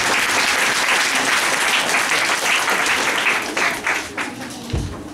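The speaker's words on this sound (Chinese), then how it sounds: "好，那我们接下来热烈掌声欢迎世迁" Audience applause welcoming a speaker at a forum on the future of the left, a dense sustained burst of clapping from a full room that thins and fades over the final second or two.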